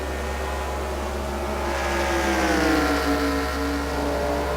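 Race cars in a NASCAR video game drive past in a steady engine drone whose pitch rises and sweeps as the cars pass, with a low constant hum underneath.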